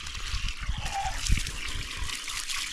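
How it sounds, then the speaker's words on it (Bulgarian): Water is poured generously over a homemade compost heap, giving a soft trickling and splashing close by at moderate level, with a brief louder splash partway through. "Остана ни последната стъпка да полеем още веднъж обилно"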